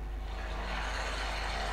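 A modified MTZ tractor engine outdoors, tuned to roar like a pulling tractor, gives a loud, continuous heavy rumble with a rough, broad hiss layered on top.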